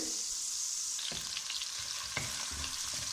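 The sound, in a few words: ginger and garlic frying in oil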